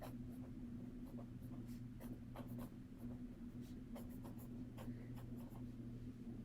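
Writing on a paper page during a maths lesson: quiet, close scratchy pen strokes in short uneven bursts over a faint steady hum.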